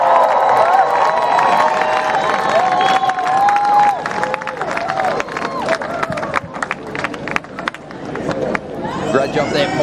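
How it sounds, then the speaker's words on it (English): A large crowd at a surfing contest cheers and claps loudly, whistles and shouts rising over sustained applause, with an announcer's voice carrying through the noise. "Another massive round of applause."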